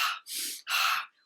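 A voice imitates quick panting breath through nose and mouth, as when running: two loud, breathy bursts with a short gap between them, close and alone.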